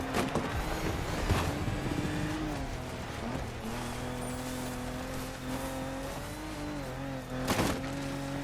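A car in The Crew Motorfest slides across off-road dirt, engine droning steadily with shifting pitch and bursts of tire and gravel noise near the start and end, loud and continuous without speech.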